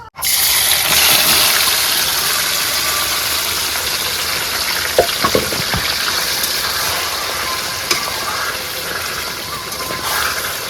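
Golda lobster prawns go into hot oil for a home-cooked biryani, setting off a loud, steady, close sizzling hiss that carries on with a few light clatters.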